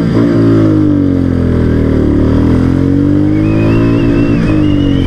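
A Royal Enfield Meteor 350 single-cylinder motorcycle accelerates hard during a top-speed run. Its close, loud exhaust drones with a rising, pulsing engine note and steady wind rush, with no talk over it.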